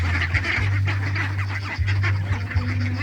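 Two-month-old ducks from a batch of about 120 in a farm cage give a steady chorus of honking quacks, loud and close, with a constant low hum running underneath.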